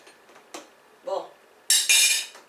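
A metal spoon clinks against a bowl while linseed oil is added for a homemade breakfast: a few soft taps, then two sharp, close clatters near the end, with no talking.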